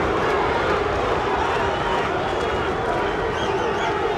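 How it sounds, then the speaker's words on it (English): A boxing crowd roars and yells during the first round of a heavyweight bout between Tommy Morrison and Ray Mercer. The noise is a dense, steady wall of cheering that carries through the whole stretch. "Crowd yelling Duke."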